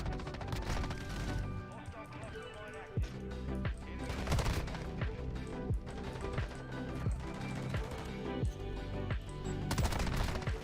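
An M13 assault rifle fires in the video game Modern Warfare 2: dense, continuous automatic gunfire with sharp repeated bursts and impacts, loud and busy throughout the stretch.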